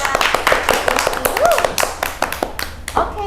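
Small audience clapping at a campus podcast session, a loose, close run of distinct hand claps with uneven rhythm, with a brief vocal whoop partway through.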